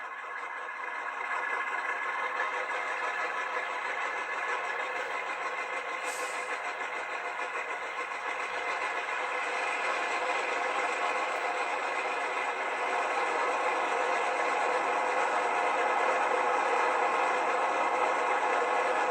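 HO scale Rapido C36-7 model locomotive sound unit at full power, giving a steady, moderately loud diesel engine drone that holds unchanged throughout.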